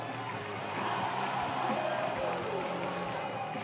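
Crowd noise rises from the stands at a Brentwood vs Ravenwood high school football game, a steady roar of cheering that carries on for the whole stretch beneath a commentator's voice.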